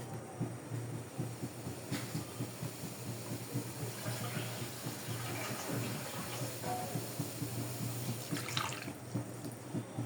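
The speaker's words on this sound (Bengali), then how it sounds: "আমি এখন এটাকে পানি দিয়ে সেদ্ধ করব, অল্প পানি দিয়ে।" Water runs steadily onto soaked dried shrimp in a pot as it is readied for boiling, a continuous close pouring and splashing with a low hum underneath and no talk.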